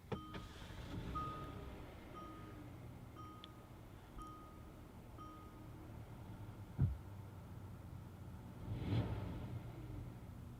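Push-button start of a 2017 Kia Cadenza Premium: a faint cabin hum and a few soft clicks, a thump, then the engine cranking and catching into a brief low rumble near the end.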